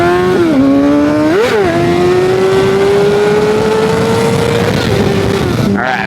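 A super sport motorcycle accelerates hard nearby, its engine note climbing through the gears with a couple of quick shifts and a brief dip, loud and steady throughout with no talking.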